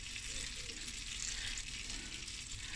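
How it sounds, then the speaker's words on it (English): Onions fry in oil and butter in a pan over medium-high heat, giving a steady, dense sizzle with no break, close and even throughout. "fry these onions"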